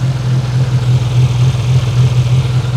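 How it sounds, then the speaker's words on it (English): Geo Tracker engine idling with an exhaust leak under the vehicle, a loud, close, steady low drone with a rapid pulsing puff throughout. "Right under here, there's an exhaust pipe, and it's got a weird sound."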